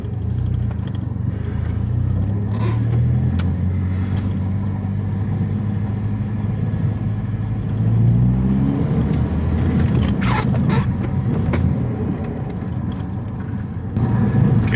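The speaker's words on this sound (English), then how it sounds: "Okay, we have a kind of a grinding noise." Steady road noise from a Toyota Celica ZZT231 driving on freshly fitted rear disc brakes, a continuous low rumble with a faint scraping grind running underneath and briefly swelling near the end, no talk.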